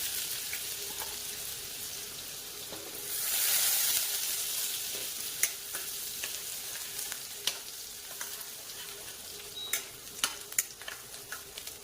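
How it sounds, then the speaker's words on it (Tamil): Steady sizzling of chopped garlic frying in hot oil, with occasional sharp clicks and stirring taps over the sizzle; no voices. "இதில் பொடியை நறுக்குனா ஒரு 10 பல்லு பூண்டு சேர்த்துக்கிறேன்."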